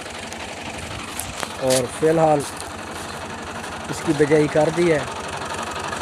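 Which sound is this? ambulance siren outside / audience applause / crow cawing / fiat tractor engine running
fiat tractor engine running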